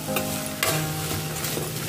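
Onion curry (ullipaya pulusu) is stirred in a hot pan, with a steady close sizzle and the scrape of a spoon mixing the onions, and no voices.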